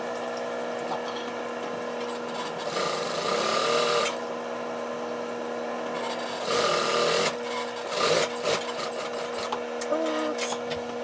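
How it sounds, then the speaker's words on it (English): Sewing machine stitching coloured thread densely onto white base fabric for a Jamaican shop coat, a steady mechanical whir running continuously with louder bursts of faster stitching in several stretches. "I like to stitch it so close that none of the white material, the base material gets off."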